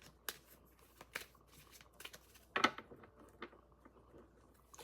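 Several short, crisp bursts of tarot cards being riffled and slid together, spaced irregularly against a quiet room, close and fairly soft.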